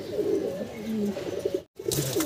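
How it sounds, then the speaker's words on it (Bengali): Pigeons coo in a loft or market, soft throaty rolling calls repeating close by with a brief gap, while other birds chirp faintly around them. "খুব ছটপটা কবুতর।"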